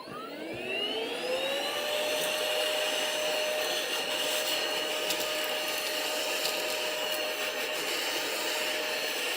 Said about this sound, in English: vacuum cleaner noises.